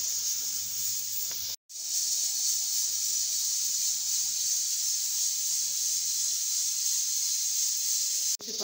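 A pressure cooker on the stove hisses steam steadily while lentils cook, a loud continuous hiss interrupted by two brief silent gaps.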